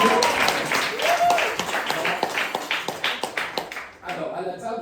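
An audience at a French comedy show applauds with dense, lively clapping, loud and fairly close, while a voice talks over it, and the clapping fades near the end.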